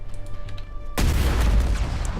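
A weapon blast in the sci-fi building game Space Engineers, a sudden loud boom about a second in that swells into a sustained, heavy low rumble of debris and destruction, alone without voices.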